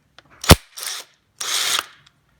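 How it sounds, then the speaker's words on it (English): On a GM truck rear disc brake job, an impact wrench rattles in three short bursts: a sharp hit, then two longer buzzing runs, close up with quiet gaps between. "as soon as you put this in on a impact wrench and you run all of this come out probably"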